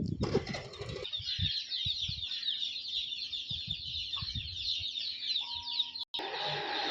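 Pure desi gavthi chickens cluck in short, close bursts beneath a dense, continuous high chirping chorus, with a brief flutter near the start and a sudden cut near the end.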